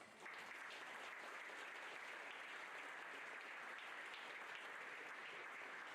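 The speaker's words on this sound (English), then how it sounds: "So a big round of applause for all the guys that support us." Applause for supporters at an RC off-road racing championship held at Trackside Hobbies, a faint, distant and even wash of crowd clapping that starts abruptly and holds steady throughout.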